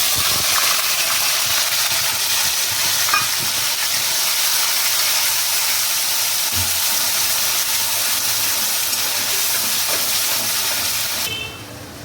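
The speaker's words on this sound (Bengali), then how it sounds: "আমি পেঁয়াজ বাটাটা এর মধ্যে অ্যাড করে দিচ্ছি" Onion paste fries in hot oil with cinnamon and cardamom, giving a loud, continuous close-up sizzle and hiss that holds steady and eases off slightly at the very end.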